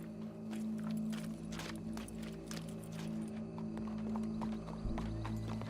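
Horse hooves clip-clop steadily in the Western video game Red Dead Redemption 2, a rhythmic walking gait over a low ambient hum, with a brief whinny-like sound and no talk.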